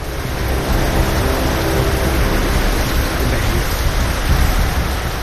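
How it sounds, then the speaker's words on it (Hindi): Heavy rain pours steadily on a January day around Delhi, a loud, dense, unbroken hiss of falling water with no voices. "सुबह सुबह शुरू हुई बरसात रुक रुक कर पूरे दिन जारी रही।"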